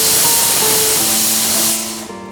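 A pressure cooker whistle hisses loudly in a kitchen where bisi bele bath is being cooked, a steady rush of escaping steam that thins and fades in the final moments.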